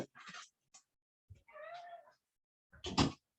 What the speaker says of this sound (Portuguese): Tem uma gatinha aqui chorando.